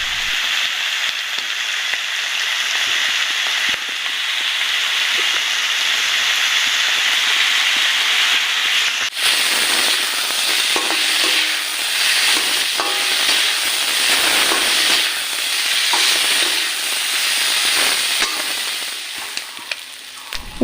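Pigeon meat frying in a pan with salt and spice powder gives a loud, continuous sizzle that grows busier and crackly partway through, with occasional stirring scrapes.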